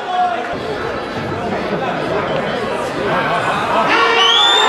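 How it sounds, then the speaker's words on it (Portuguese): Lively crowd at a Brazilian sinuca (pool/snooker-style) match cheers and chatters continuously, a dense noisy babble that swells louder toward the end. "E a torcida vai à loucura aqui"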